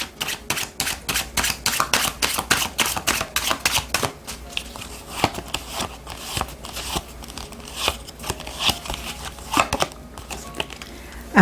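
Oracle cards handled and shuffled at close range: a busy run of crisp flicks, snaps and riffles that loosens into sparser slaps and rustles, with no one speaking.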